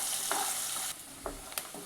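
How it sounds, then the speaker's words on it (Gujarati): Chopped onion sautéing in a pan for potato poha, a soft steady sizzle broken by a few short stirring scrapes and clinks, close and moderately quiet with no talking. "ડુંગળીને પણ આપણે થોડી વાર માટે સાતળી લઈએ।"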